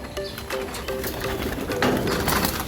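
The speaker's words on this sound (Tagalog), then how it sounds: "Heto, may ibon na tayo." A racing pigeon coos repeatedly in a soft, rhythmic series over steady outdoor background noise at a training release, with a faint voice nearby.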